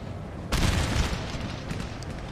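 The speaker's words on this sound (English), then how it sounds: "What we can do is do another artillery on that lot." Artillery bombardment in the Napoleon: Total War video game: a sudden heavy boom rolls into a sustained, rumbling roar of distant cannon fire.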